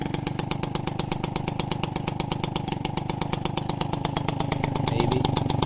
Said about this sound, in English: First try, first kick, and it runs. Look at that with the new carburetor.